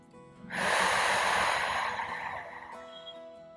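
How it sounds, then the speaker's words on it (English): Someone lying in yoga corpse pose takes one long, steady, close breath through the nose. It is loud and airy, lasts about two seconds, then fades into quiet. "Extend your legs for a short corpse pose. Continue to breathe."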